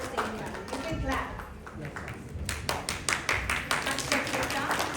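An audience claps for students at a certificate ceremony: brisk, scattered clapping that builds and stays fairly dense over a room murmur, with a voice talking early on.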